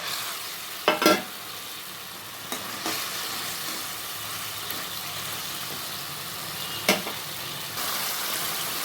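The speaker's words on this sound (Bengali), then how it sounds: "এবার আমি মাছগুলো ছেড়ে দেবো" Koi fish are slipped into a boiling, spiced curry for tel koi, bringing a steady sizzling bubble punctuated by a few sharp clinks and clatters from the pan.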